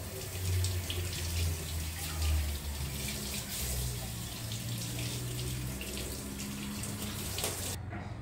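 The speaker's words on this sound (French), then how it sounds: "ce que je fais, c'est que je vais rincer ma viande." Raw meat rinsed under a running kitchen tap: a steady, close rush of water splashing, with slight shifts as the meat is moved, cutting off just before the end.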